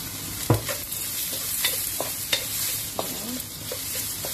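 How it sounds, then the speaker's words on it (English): Carrot being stir-fried with a little salt in a pan, a steady close sizzle broken by repeated scraping and tapping strokes of the spatula, with no voices. "First I'm going to stir fry carrot with little bit of salt"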